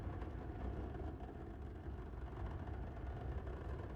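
A spaceship's quantum drive spooling up in Star Citizen, heard as a low, steady rumbling hum that holds level throughout, faint and unbroken.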